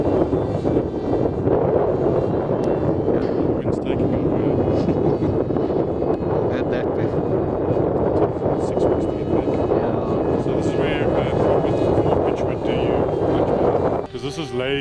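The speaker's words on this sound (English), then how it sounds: "You can hear how the engine's revving. It's cavitating." A model airplane's 945 engine drones loud and continuous with its propeller cavitating in flight, blended with heavy wind rush at the microphone and people talking over it.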